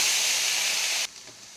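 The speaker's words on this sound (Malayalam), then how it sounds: "1 ടീസ്പൂൺ ഓയിൽ ഒഴിച്ച് കൊടുത്തിട്ടുണ്ട്. അതിലേക്ക് നമുക്ക് റൈസ് ഇട്ട് കൊടുക്കാം." Cooked rice dropped into a teaspoon of hot oil in a pan makes a loud, close, steady hiss for about a second, then falls off abruptly to a quiet simmer.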